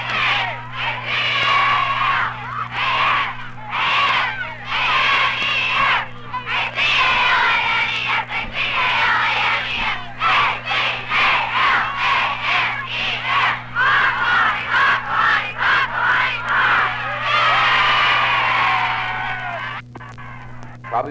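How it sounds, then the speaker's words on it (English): Students at a 1958 high school football rally let out a big yell, a loud sustained crowd roar of many young voices shouting and cheering in waves, with a steady electrical hum beneath. "tried to quiet the Dons down for their first big yell"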